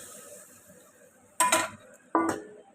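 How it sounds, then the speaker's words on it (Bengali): Fried potatoes go into a cooking pan, producing two sharp metallic clanks about a second apart against a quiet background. "এখন আমি একে একে আলু ফ্রাইটা দিয়ে দিলাম"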